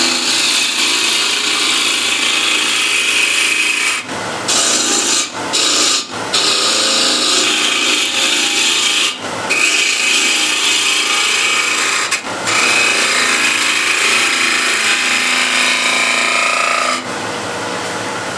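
Ball gouge shaving a rough wooden ball on a lathe, a loud steady scraping rasp that runs continuously and breaks off briefly several times as the tool lifts from the spinning workpiece.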